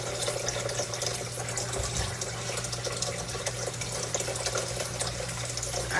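Tap water runs steadily into a kitchen sink while dishes are washed, a continuous close splashing hiss with a low hum beneath and no voices.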